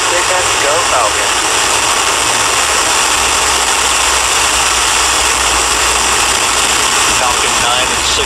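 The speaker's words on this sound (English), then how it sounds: "Ignition, engine full power, and liftoff." A SpaceX Falcon 9 rocket carrying a Cygnus cargo craft ignites its engines and lifts off, a loud continuous broadband roar holding steady throughout, with a launch commentator's voice heard over it.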